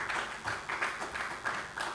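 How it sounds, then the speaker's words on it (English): An audience at a university innovation festival gives a round of applause, a faint, diffuse patter of clapping with rhythmic swells, heard alone for a couple of seconds. "Let's give him a huge round of applause"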